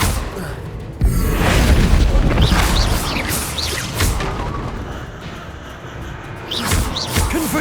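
A Confringo explosion spell in Hogwarts Legacy goes off with a heavy, loud boom, then a rumbling blast that lingers for several seconds amid swooshing magical effects and a second swell near the end.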